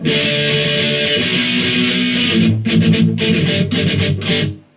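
Thick distorted electric guitar chords from a chorus play a steady strumming pattern, first sustained and then breaking into choppy, palm-muted stabs before cutting off.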